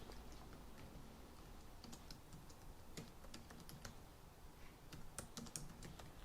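Soft, rapid key taps as text is typed on a computer keyboard, faint and steady with scattered sharper clicks over a constant low hiss, no talking.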